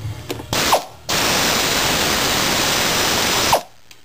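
A loud power tool whirs and rattles in two bursts, a short one then a sustained run of about two and a half seconds, loosening a 10mm bolt.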